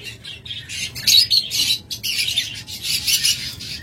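A pair of opaline pet birds, likely budgerigars, calls continuously nearby with dense, chattering chirps and squawks throughout. Faint low background rumble sits under the birdsong.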